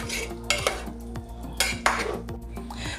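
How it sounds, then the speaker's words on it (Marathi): Mutton pieces being gently stirred and tossed in masala in a metal pot for a spicy Malvani mori mutton masala, with repeated soft scraping and clinks of a utensil against the pot, close and steady. "आई अगदी अलगद हाताने ते छान मसाल्यामध्ये परतून घेत आहे."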